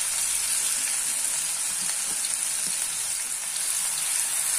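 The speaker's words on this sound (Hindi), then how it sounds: "और अब हम डालेंगे चॉप की हुई प्याज।" Chopped onion dropped into hot oil with whole spices like shahjeera, cardamom and cloves for a soya chunk curry, giving a steady, loud, close sizzle and hiss that holds evenly throughout, with faint stirring scrapes and no talking.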